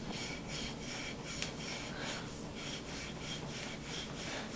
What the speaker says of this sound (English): take some steel wool, just pull a little piece out.